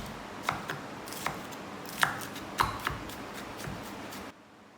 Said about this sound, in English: Crush about 4 cloves garlic and mince them.